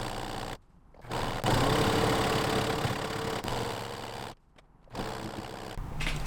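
Close, steady whirring of a sewing machine stitching bedsheet fabric, running in two long bursts separated by short pauses, with no voices.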